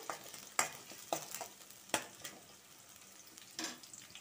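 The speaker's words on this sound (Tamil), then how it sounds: "நல்லா வெங்காயம் கொஞ்சம் வதங்கட்டும்" Soft frying hiss of onions sautéing in a pan, with a few scraping stirs of a utensil against the pan, sharp clinks at irregular intervals, no voices.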